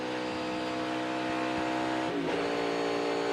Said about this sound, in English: It almost sounded like he was still downshifting after the line